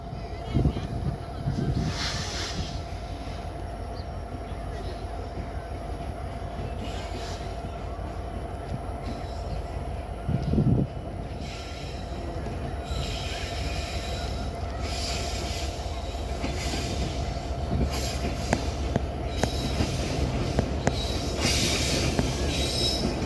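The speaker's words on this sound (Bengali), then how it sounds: "দেখতে পাচ্ছেন পঞ্চগড় এক্সপ্রেস ট্রেনটি আসছে এবং এটি এখন ডাউন লুপ লাইনে প্রবেশ করছে" Panchagarh Express passenger train arriving at reduced speed as it enters a station's down loop line, with steady rumbling rail noise, high wheel squeal and intermittent clattering throughout, loud and close, building slightly toward the end.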